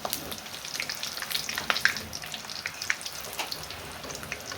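Homemade spicy papads frying in hot oil, a close, busy sizzle with dense crackling pops and spits that rise and fall in bursts throughout, heard alone without talk.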